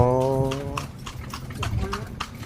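Iron-shod hooves of a carriage horse clop in a steady rhythm on pavement near a Lampang temple, each strike a sharp tap, heard close under ongoing conversation.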